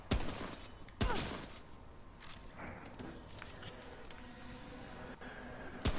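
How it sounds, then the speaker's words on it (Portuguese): Gunfire aimed at the player in the video game Remnant: From the Ashes: sharp, loud shots crack at the start, again about a second in and at the very end, over a steady bed of rough, noisy game ambience. "Quem é esse otário que tá atirando em mim?"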